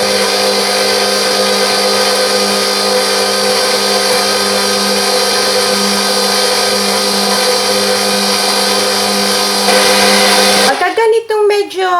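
Loud, steady electric mixer whirring through pandesal bread dough with a constant motor hum for about ten seconds, then cutting off as a voice begins speaking.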